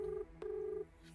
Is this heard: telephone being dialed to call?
yes